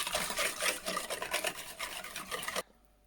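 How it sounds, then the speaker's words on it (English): Scone ingredients being whisked briskly in a bowl, a steady rhythmic scraping and swishing that runs loud and close for a few seconds, then stops abruptly into quiet. "I'm going to whisk them all together."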